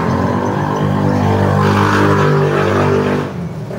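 A motorcycle engine revs hard close by, a loud, throaty harmonic drone that swells and holds before easing off slightly near the end.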